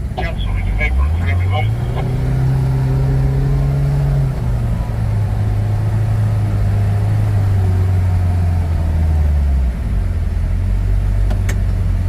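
A Kawasaki RIDGE side-by-side engine braking at about four to five miles an hour, its low steady engine drone stepping down in pitch as it slows, close and continuous, with someone talking over it.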